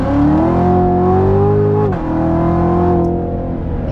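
A 2017 Corvette Z06 at full throttle roars loudly from inside the car, its engine note climbing steadily, then dipping sharply in a quick gear shift before pulling hard again, with no talking.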